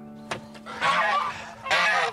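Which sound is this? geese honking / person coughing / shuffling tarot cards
geese honking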